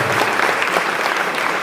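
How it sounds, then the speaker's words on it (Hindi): Loud, dense applause from an audience at a health awareness event, continuous clapping with no gaps, close and full. "एक बार जोरदार तालियां"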